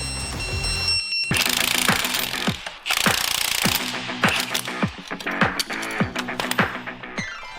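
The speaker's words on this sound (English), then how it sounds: "the cams need to be tightened down in a specific order with a specific torque setting" Camshaft bolts on a Toyota Sera engine being tightened to torque in sequence, with loud ratcheting and clicking bursts in quick runs and sharp metallic taps between them, close up and with no talk.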